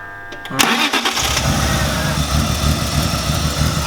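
A BMW E36 engine with a flooded motor cranks and catches, then settles into a steady, rumbling idle close by.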